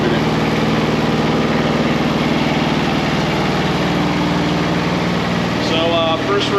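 A Spimerica Palazanni TZX 730 compact tracked spider lift engine idles low, a steady, loud, close drone that stays even throughout and has no talking over it.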